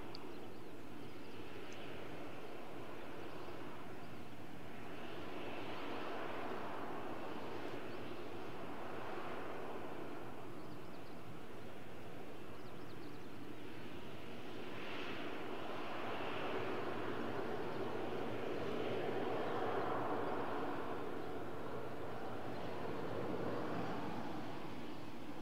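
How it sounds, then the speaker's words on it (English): A Jet2 airliner takes off from Malaga Airport, its engines a broad, steady roar that swells and surges in waves over about twenty-five seconds, heard from a distance with no talk. "The pilot should get any second clearance for takeoff."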